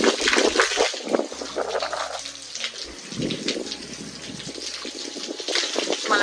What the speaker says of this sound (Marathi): आता पाणी मारायचं